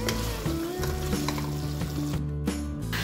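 Chicken karahi sizzles steadily in a pan after about ten minutes of frying, a constant close crackle with a low hum beneath and no voices.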